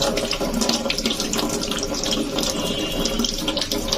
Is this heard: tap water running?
yes